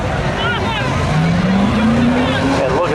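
A Camaro drag car roars down the strip at a spectator drag race, its engine note climbing steadily in pitch as it accelerates, heard amid crowd chatter and general outdoor noise.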